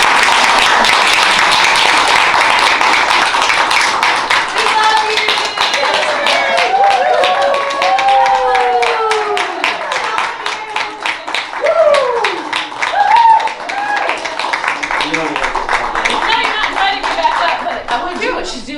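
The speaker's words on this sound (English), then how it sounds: "So let's just really give in to this applause." An audience at a live talk bursts into sustained, dense applause, with clapping and scattered whoops and cheering voices, loud and steady throughout.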